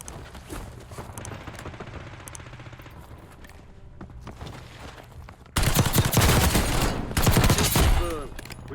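Gunfire in Call of Duty Warzone BO6 starts as quiet scattered shots over game ambience, then erupts into loud sustained bursts of automatic fire near the end.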